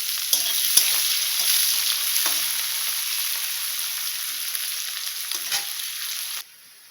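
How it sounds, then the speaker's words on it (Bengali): Chopped onions sizzle steadily in hot oil left from frying eggs, a continuous bright crackle with occasional clinks of a spatula stirring, until the sound cuts off near the end. "দেখো পেঁয়াজটা ভাজি করা হয়ে গিয়েছে, একটু ব্রাউন কালার এসে পড়েছে"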